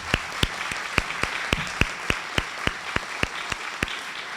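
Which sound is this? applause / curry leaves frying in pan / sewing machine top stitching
applause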